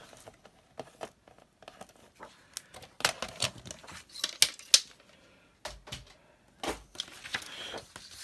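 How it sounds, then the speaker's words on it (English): Scissors trimming the white edge off one long side of fabric for an embroidered journal cover, heard as a series of close, irregular snips and crinkly fabric rustles with short quiet gaps between them. "I'm just going to trim off the white edge just off one long side."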